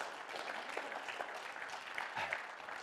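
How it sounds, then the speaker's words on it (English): Church congregation clapping in praise during a sermon, a steady, even wash of many hands applauding, fairly distant and soft. "Give him a hand clap of praise,"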